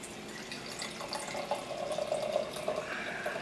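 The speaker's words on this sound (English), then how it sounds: "I'm going to pour it into this jar." Boiled liquid, a yeast starter wort, is poured into a sanitized pint jar, giving a steady close trickle and splash that swells slightly toward the end, with no talking.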